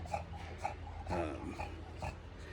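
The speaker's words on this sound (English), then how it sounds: "Just hanging out with dogs." Dogs snort and breathe heavily at close range in a few short rough bursts, with a low steady hum running underneath.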